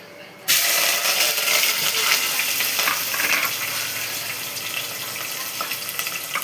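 Green chillies, curry leaves and onion hit hot oil with a sudden loud sizzle that spits and crackles steadily, close up, then eases slightly and holds for several seconds with no talking.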